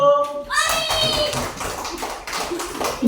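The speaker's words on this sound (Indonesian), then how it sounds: "tepuk tangan dulu" Young primary-school children in a classroom clap together in a quick patter of many hands, with children's voices rising over it at the start.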